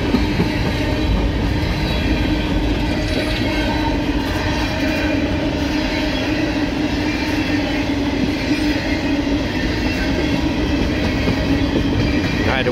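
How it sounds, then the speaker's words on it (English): A long westbound empty coal train led by CSX heritage locomotive 1827 in B&O paint rolls past, steady loud rumble and wheel clatter of the empty cars, constant throughout, no talk. "I had to wait for the very slow coal train to take the 200 car load."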